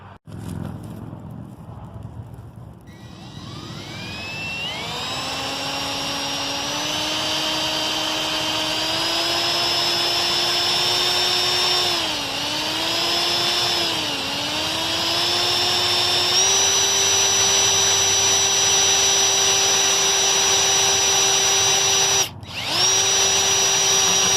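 A power drill bores holes for a custom minivan solar panel rack, whining up to a high steady pitch and holding it for about twenty seconds, dipping briefly under load before a quick stop and restart, loud and close.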